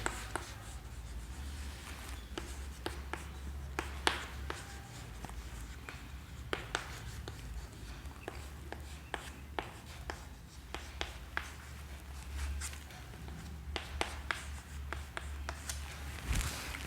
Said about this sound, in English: I will write.